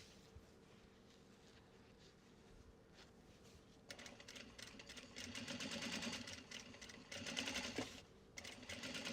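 A sewing machine stitches fabric from an upcycled obi for a tote bag, starting quietly and then running in steady bursts of fast mechanical whirring, louder and busier in the second half, with no voices.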